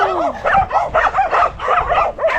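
A pack of dogs barks close by in quick, overlapping bursts of yips and barks, loud and choppy with brief gaps between volleys.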